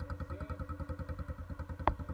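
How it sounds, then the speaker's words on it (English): A 125cc IceBear Fuerza motorcycle engine with the stock exhaust cut out idles with a steady, lumpy putter, close and moderately quiet, broken by a single sharp clack near the end. "I need to turn on the bike."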